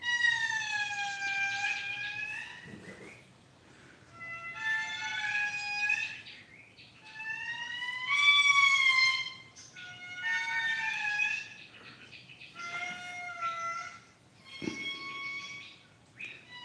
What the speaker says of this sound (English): I think those calls that you can hear now are a type of lemur.